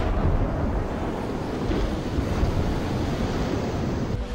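Ocean surf washes steadily against a rocky shore where people are fishing, a dense, constant roar with wind buffeting the microphone throughout.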